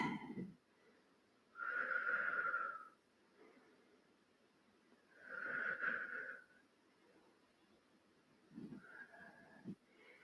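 Slow, deep breaths held in a yoga pose, three long airy exhalations spaced a few seconds apart, close and fairly soft, with a faint quiet room between them.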